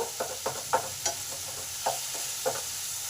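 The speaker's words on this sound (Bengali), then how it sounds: "এবার সব কিছু ভালো করে কষে নেব।" Chili, turmeric, cumin and coriander powders cook down with tomato in a pan over a faint sizzle. A spatula scrapes the pan about every half second, close by and with no voices.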